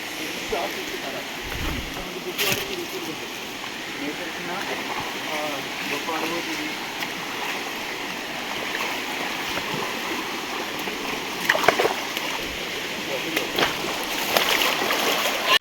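A waterfall near Warangal rushes in a continuous splashing roar at moderate level, with occasional louder splashes and people talking faintly nearby.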